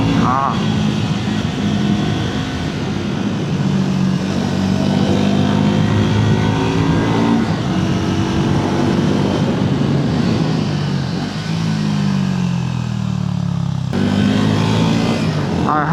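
A Triumph Tracker 400 motorcycle engine revs and accelerates steadily through 3,000 to 7,000 RPM, its pitch rising and falling through gear changes, loud and close throughout.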